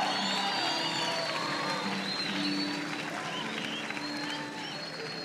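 Church congregation clapping and cheering at a Spanish-language worship service, sustained dense applause with voices and whoops mixed in, easing slightly toward the end.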